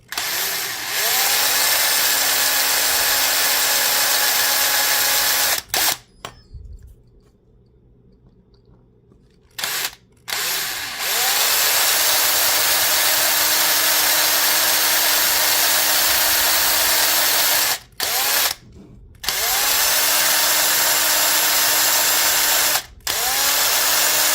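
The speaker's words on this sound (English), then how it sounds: "we're going to just drill a hole about 1/4 of an inch down." A loud handheld power drill boring a hole about a quarter inch deep during a teacher appreciation build, running in long sustained stretches broken by brief stops and one longer quiet pause.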